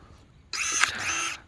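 Electric pruning shears buzz in one short, close, bright motor burst while trimming a jujube tree branch, after a quiet moment.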